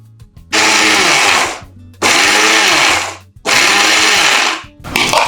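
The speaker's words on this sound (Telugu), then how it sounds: "ఇది కూడా ముందుగా కర్బూజా మిక్సీలో వేసుకొని జ్యూస్ లాగా గ్రైండ్ చేసుకున్నాం." A mixer grinder whirs through three loud bursts of grinding muskmelon into juice, each about a second and a half long and separated by short pauses, with the start of a fourth burst at the end; nobody speaks.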